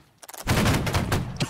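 Musket volley in the Napoleonic-era line battle game Holdfast: a loud, dense rolling crash of many muskets firing nearly at once, with scattered shots trailing off over about a second.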